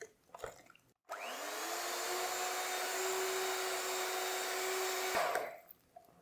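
An electric beater whirs steadily at high speed for about four seconds as eggs are worked into cream puff dough, starting and stopping abruptly, with faint kitchen handling noises before and after.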